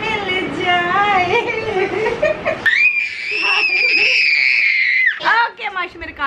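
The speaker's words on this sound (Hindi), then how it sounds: "आपने इतनी तेज चीखा है ना बेटा" A child screams loudly and shrilly in a long sustained cry, with voices talking and laughing before and after it.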